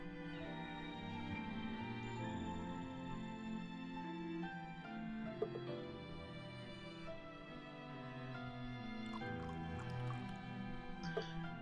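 Water dripping and trickling in the Tales of Berseria video game, soft repeated drips and liquid splashes over a layered game music and ambience bed, fairly quiet.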